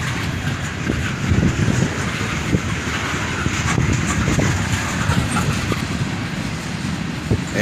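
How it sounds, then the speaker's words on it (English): The last cars of a CSX freight train of covered hoppers and boxcars roll past nearby, a steady rumble with intermittent clickety-clack of wheels and some wind noise. "And finally, the end of the train goes by."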